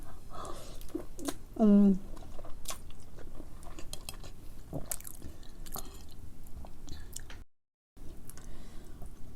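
Close, quiet chewing of Samyang carbo spicy chicken noodles and dumplings, with soft wet bites and crunches repeating throughout, plus a short vocal sound partway through and a brief silent dropout near the end.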